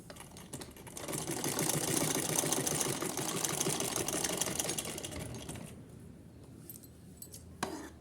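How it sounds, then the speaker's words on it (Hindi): Sewing machine stitching two fabric pieces of a small Laddu Gopal Holi outfit, a fast steady mechanical whirring and clatter that runs continuously for several seconds, then stops, followed by a brief click. "चलिए दोनों पीस पे सिलाई लगा लेते हैं।"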